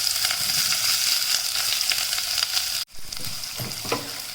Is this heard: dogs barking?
no